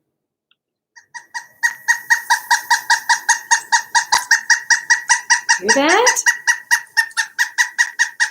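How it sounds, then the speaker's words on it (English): A pileated woodpecker gives a loud, rapid series of even, ringing calls that repeats steadily in the woods; a brief spoken remark and a short rising squeal interrupt partway. "So here is what a pileated woodpecker sounds like."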